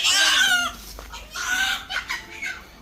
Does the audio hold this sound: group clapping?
no